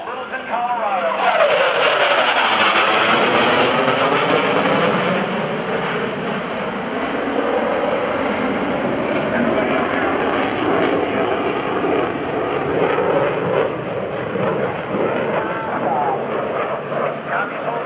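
An F/A-18C Hornet jet roars loud and continuous as it sweeps fast through a decelerating 360-degree landing turn at the 2011 NAS Oceana airshow, its pitch shifting as it passes while an announcer talks over it.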